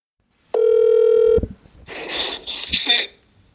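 An internet voice call is placed on a mobile phone: one steady electronic call tone sounds for about a second, then gives way to chirpy, crackly connecting noises before fading out.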